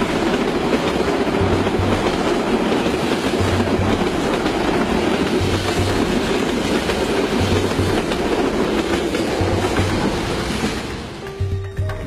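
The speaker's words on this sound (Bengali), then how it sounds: "যে ট্রেনটা দেখলেন পাস করতে" A train rolls past on the rail line beside Lawachara rainforest, a loud steady rumble with regular clickety-clack beats from the wheels, fading slightly as it moves away at the end.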